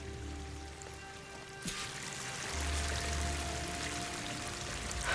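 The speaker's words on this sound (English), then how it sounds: "That waterfall must be coming from somewhere." A waterfall in Horizon Forbidden West rushes in a steady, broad wash of pouring water that swells slightly louder after a couple of seconds, with a faint tonal hum underneath.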